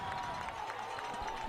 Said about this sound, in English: And listen to the roar of the crowd